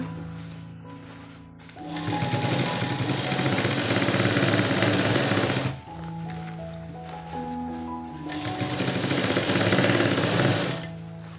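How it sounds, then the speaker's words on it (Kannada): An electric sewing machine stitches around a chudidar pant in two long, fast-running bursts, each several seconds of rapid loud whirring, separated by a brief pause with a lower motor hum. "ಈ ಥರ ಒಂದು ಸ್ಟಿಚ್ ಹಾಕಿ ಸುತ್ತ"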